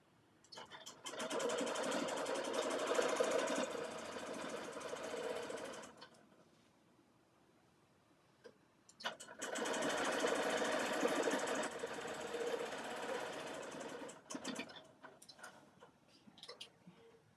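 Sewing machine stitching and backtracking over a seam, two long sustained runs of fast, even mechanical whirring separated by a quiet pause with scattered clicks.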